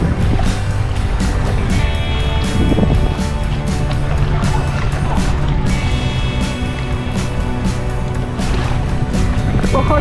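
Kayak paddling on the sea at Orebić, Croatia: repeated splashes and watery strokes close by, with wind buffeting the microphone throughout.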